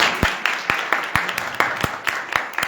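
Church congregation clapping in scattered, fairly regular sharp claps at a moderate distance, a modest round of applause with faint voices underneath.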